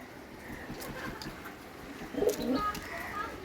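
Pigeons cooing inside a pigeon house, low rolling coos rising toward the end, moderately close over faint background noise and a little quiet talk.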